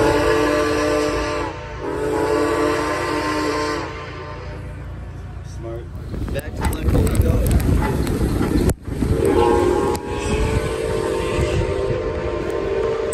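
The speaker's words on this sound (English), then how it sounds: "They're gonna blow it, I think." The steam whistle of locomotive Milwaukee Road 261 blows in two long, loud blasts, then chugging and hissing rumble before the whistle sounds again, with people talking nearby.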